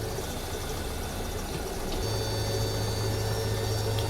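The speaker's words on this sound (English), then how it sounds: "You can hear that whining sound. That is the sound of the hydraulics working" Hydraulics of an A320 cargo door in the AirportSim game: a steady mechanical whine over a constant engine-like hum, with a lower tone stepping in about halfway through, continuous and fairly close.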